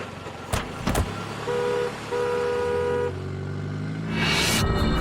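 A car being driven, its steady engine and road noise running throughout, with sustained horn-like tones in the middle and a rushing swell near the end.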